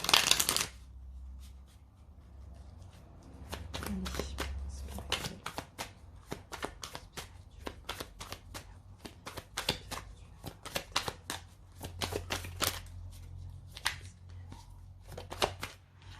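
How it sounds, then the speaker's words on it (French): Osho Zen tarot cards being shuffled by hand, a close run of rapid crisp riffling flutters in quick bursts, fairly quiet, with a few soft handling thumps between them. "On va utiliser le Oshozen Tarot, on va prendre 3 cartes pour voir un petit peu au niveau spirituel"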